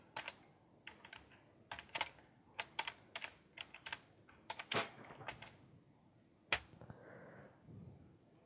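Computer keyboard typing while entering text for an After Effects action-movie title: short bursts of crisp key clicks in an irregular rhythm, close and fairly quiet, with no talking.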